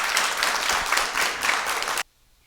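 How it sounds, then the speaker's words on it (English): An audience at a poetry anniversary celebration gives a dense burst of applause, loud and continuous for about two seconds before cutting off abruptly into near silence. "Let's give her another round of applause."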